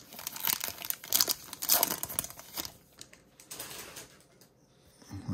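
A foil wrapper on a 2023 Topps Chrome baseball card pack crinkles and tears in close, loud bursts, the rustling rising and falling unevenly before fading into quieter handling.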